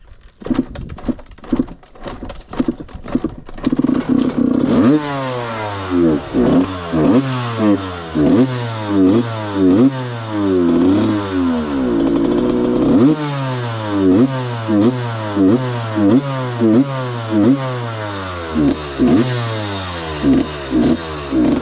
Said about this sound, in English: carb's tuned, bike's warmed up. Let's see how it rides.